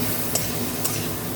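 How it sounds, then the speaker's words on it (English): Okra curry with spices is stirred in a sizzling pan, giving a steady broadband fry hiss with two brief scraping accents, close and continuous with no voices. "So at this stage I will be stirring it well so that the rawness of spices can be gone."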